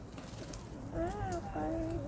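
Soft pigeon coos rise and fall close by, a couple of low throaty calls over quiet background voices and outdoor hum.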